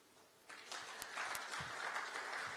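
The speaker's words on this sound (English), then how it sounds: "let's clap for Mastercard Foundation." A grand finale audience breaks into applause, the clapping rising suddenly after a brief quiet start and then holding as a steady, fairly distant patter with no talk over it.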